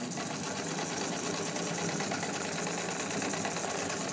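A restored pink Necchi BU Nora sewing machine runs long stitches through fabric, giving a steady, close, continuous mechanical whir with a fast, even needle rhythm and no talking.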